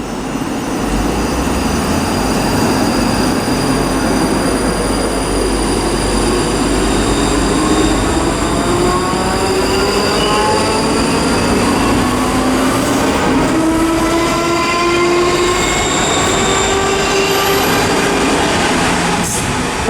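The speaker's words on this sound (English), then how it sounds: "departing is the 1646 ScotRail service to Milngavie from Edinburgh" A ScotRail passenger train departs Haymarket station in Edinburgh on a service to Milngavie, giving a loud, steady rumble of wheels and traction with rising whining tones as it pulls away, with no talk.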